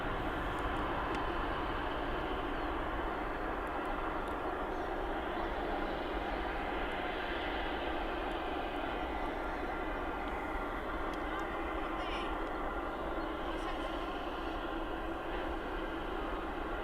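Aircraft taking off at East Midlands Airport, a continuous, even jet roar heard from a distance that sustains without a break throughout.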